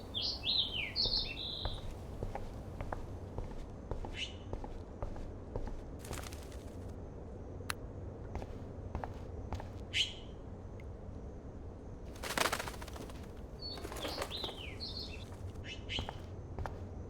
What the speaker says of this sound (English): Oh no, that poor little bird has been trapped in here.